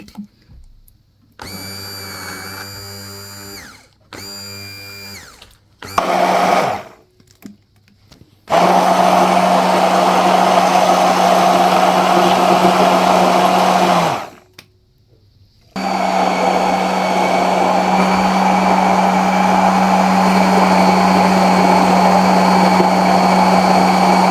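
A blender whirs loudly as it blends ingredients into chocolate sauce for a mocha coffee, running in several bursts with short pauses, then steady long stretches of motor hum.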